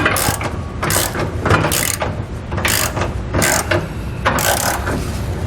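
A ratchet clicks in repeated bursts while bolts are tightened during a Firestone Ride-Rite air helper spring install on a 2013 Ford F-250, with steady loud mechanical ratcheting and short pauses between strokes.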